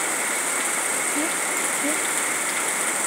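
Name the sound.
heavy rain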